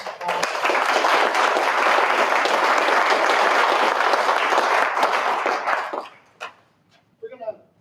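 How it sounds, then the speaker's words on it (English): Audience at a community forum in Fort Jones, California gives sustained, dense applause for about six seconds, then it fades to a few scattered claps and faint voices. "I'd like for everybody to give them another big applause."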